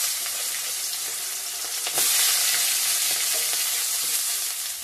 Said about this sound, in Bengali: এখন পেঁয়াজ দিয়ে দেবো।